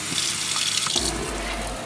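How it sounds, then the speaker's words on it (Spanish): A pull-out faucet in a camper van runs steadily into a water filter, a close, continuous splashing stream of tap water that starts about halfway through with no talking. "Con nuestro grifo podemos extenderlo e ir llenando nuestro filtro de agua."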